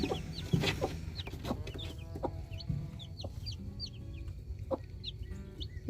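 A broody hen clucks softly and repeatedly nearby, with her chirping chicks and faint farmyard background.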